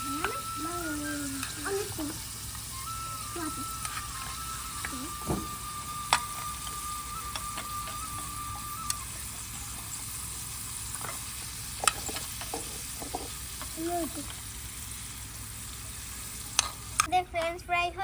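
French fries frying in a pan at home give a steady, busy sizzle and crackle throughout, with occasional utensil clinks, a brief tone, and people talking softly over it.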